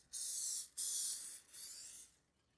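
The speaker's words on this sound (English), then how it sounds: "I'm going to go ahead and spray it again" Cooking spray hisses onto a chicken dish in a home kitchen. It comes in three short bursts, the first one clipped and the last one fading out, fairly quiet and close by.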